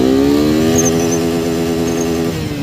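Suzuki Gixxer 250 motorcycle accelerating hard in first gear, a loud close engine whine climbing steadily in pitch with wind noise, then easing off at the end.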